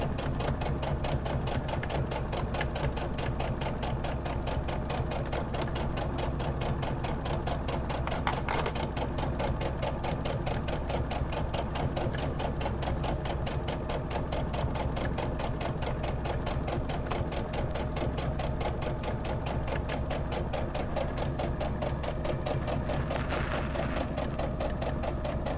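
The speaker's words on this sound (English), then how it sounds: "I can stitch on my machine a little faster." A sewing machine stitches steadily at a fast, even pace for the whole stretch, a continuous close mechanical whir and needle clatter with no talking.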